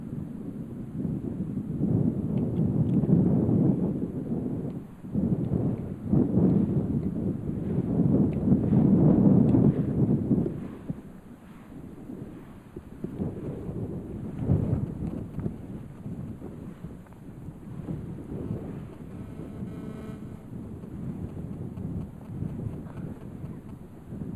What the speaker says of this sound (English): Let's hope that the wind doesn't give us false energies here.